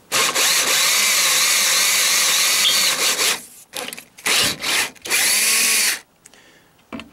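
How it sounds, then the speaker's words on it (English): A power drill whines loudly in a long continuous burst while drilling into a metal top case mounting plate, then several shorter bursts start and stop before falling quiet. "I'm going to drill the indents out"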